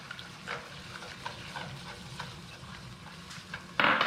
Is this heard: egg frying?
yes